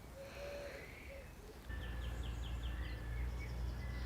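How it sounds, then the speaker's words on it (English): Birds chirp and trill in a spring garden, a repeated whistled call early on, followed by a run of quick rhythmic chirps over a low steady drone of frogs and insects that swells partway through. "I just love the nature sound, the frogs and the birds."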